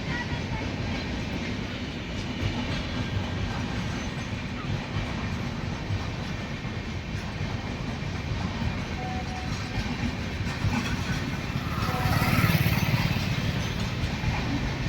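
A long express train rolls past a railway level crossing in Pimpri, a steady broad rumble that stays loud throughout and swells briefly near the end, with no clear talk over it.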